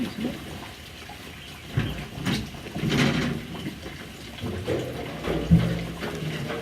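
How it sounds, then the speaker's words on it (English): Rainwater spilling over the rim of a full bucket outdoors gives a soft, uneven splashing and trickling, fairly faint and near, with a few louder sloshes and some background noise. "The bucket's flowing over."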